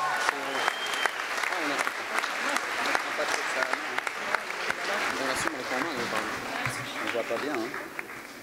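A live audience at the Rencontres d'Astaffort applauds a singer with loud, continuous clapping that stays steady throughout, with voices mixed in.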